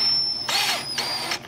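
Power drill turning a tap to thread a hole in copper, two short whirring bursts separated by brief pauses, close and fairly loud with no talk.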